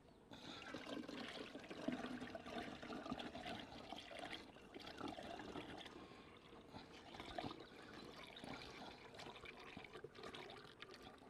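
Sugar syrup made from a 3 kilo bag of sugar and about 3 litres of water pours and trickles steadily into a beehive feeder, a continuous close liquid splashing and gurgling.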